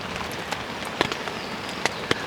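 Rain falls on a tent at a backpacking camp in the Ponca Wilderness near Hemmed In Hollow, a steady patter with a few louder individual drops striking close by.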